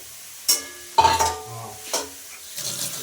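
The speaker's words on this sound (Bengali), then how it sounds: "আমাকে নড়াতে দাও" Carrot halwa being stirred in a pan, a few distinct scraping stirs with sizzling and clinks of the spoon against metal, close and fairly quiet.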